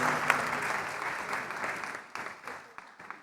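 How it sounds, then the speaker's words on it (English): A church congregation claps for the bishop at a Feast of Saint Mark celebration, a dense burst of applause that starts full and gradually thins into scattered individual claps. "Let us give our Bishop a clap."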